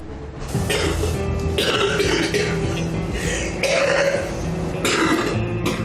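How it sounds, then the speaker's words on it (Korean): Someone with bronchiectasis coughs in a series of harsh, heavy bursts close by, with rough throat sounds between fits and no speech. "쏟아지는 기침 때문에 몸을 가누기 힘들 정도"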